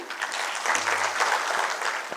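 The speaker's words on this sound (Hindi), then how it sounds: "तालियों से उनका स्वागत करें।" Audience applause welcoming a guest onto the stage at a festival event in India. Steady, dense clapping from a crowd runs throughout at moderate volume.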